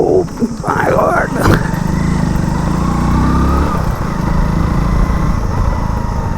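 A motorbike overdue for servicing after about 3,000 km drones steadily while being ridden on a rough road, its engine buzzing close and loud throughout, with wind noise mixed in.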